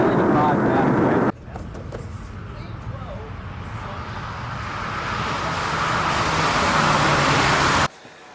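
A Triumph 2500 Mark 1 drives along with a broad engine and road roar that builds gradually, broken by abrupt level drops where gears are shifted, heard from inside the car.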